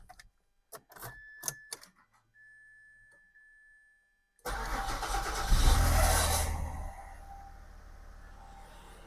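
A Mazda project car's engine cranks and catches after a quiet pause with a few clicks, then settles into a loud, steady idle that eases slightly toward the end.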